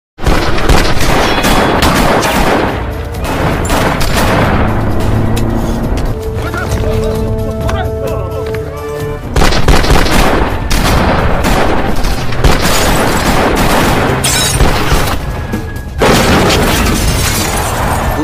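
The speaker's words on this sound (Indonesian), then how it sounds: "satu batalion dari kepolisian mendatangi tempat tersebut hingga akhirnya baku tembak pun tak terhindarkan" Film shootout between police and gangsters: loud, dense bursts of gunfire and booming shots, with rapid volleys and heavy impacts continuing almost nonstop, alongside a short stretch of tonal sound in the middle.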